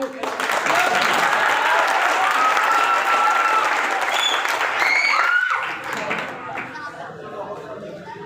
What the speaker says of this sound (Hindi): एक बार ताली मारो इसके लिए।